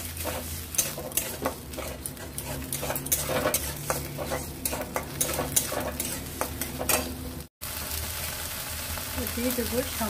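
Pointed gourd mash is stirred in a pan, with a steady run of scrapes and knocks of the spoon against the metal over a low sizzle, briefly cut off near the end and then resuming.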